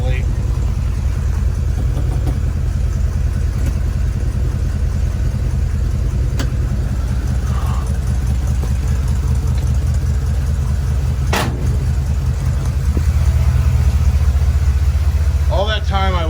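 A 1961 Dodge D300 truck engine with late ignition timing runs steadily and loudly up close, a low rumbling idle that swells briefly near the end, with someone talking over it.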